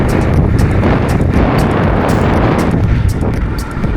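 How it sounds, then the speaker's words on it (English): Loud, constant wind buffeting the microphone as a cyclist rides into a headwind during Ironman training, a steady broadband roar with gusty surges and no voices throughout. "Headwind section here is always a little bit tough."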